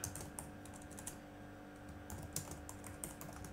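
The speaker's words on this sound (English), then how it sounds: "we can git commit and then need to type the message" Typing a git commit message on a computer keyboard: a steady run of quick, close key clicks with small pauses between bursts, alone without talk.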